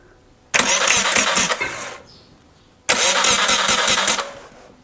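A VW T3 van's starter motor cranks the engine in two loud, dense bursts of about one and a half seconds each, separated by a short pause, with no voices.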